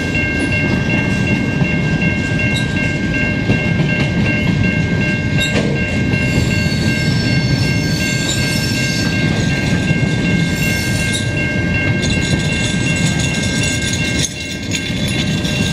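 A CN mixed freight train passing at sunset in Montreal, a loud continuous rumble with steady rail clatter and high squealing tones, holding close and even throughout before a brief dip near the end.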